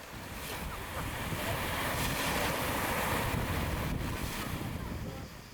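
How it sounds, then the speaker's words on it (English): Waves break and wash steadily on the Caspian Sea shore, a broad continuous surf hiss mixed with gusty wind buffeting the microphone, swelling in the middle and easing at the end. "We even go to see Caspian Sea, which actually is a big lake, the biggest one in the world"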